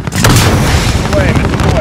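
Heavy artillery fire from an air strike in the video game Call of Duty: Modern Warfare booms loudly and close, a dense rumbling barrage filling the whole moment with low thuds and crackle.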